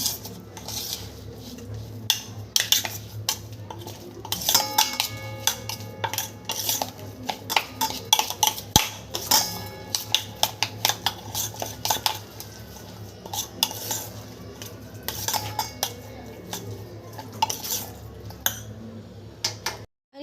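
A spoon clinks and scrapes steadily against a bowl while semolina and curd batter is stirred, a busy run of close metallic taps and scrapes lasting about twenty seconds.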